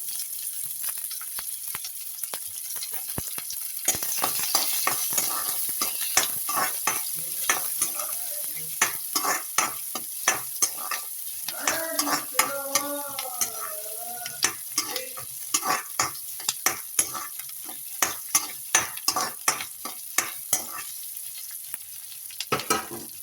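Onions and curry leaves frying in a pan for bisibelebath, a spatula knocking and scraping rhythmically against the metal over a gentle sizzle, close and fairly steady.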